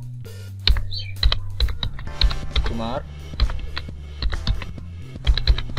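Someone types a name on a computer keyboard with a quick, irregular run of crisp key clicks while someone talks throughout.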